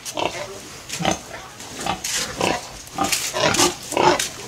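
Repeated short pig grunts and snorts, close by, coming in irregular bursts with a bit of background noise.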